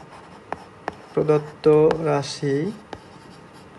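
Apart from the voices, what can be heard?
writing on paper during a math lesson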